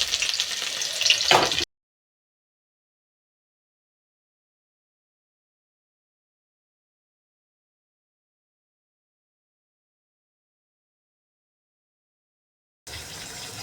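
Bay leaf and a little onion frying in hot oil as the tempering: a short burst of sizzling, then a long dead silence, then the sizzle returns steady near the end.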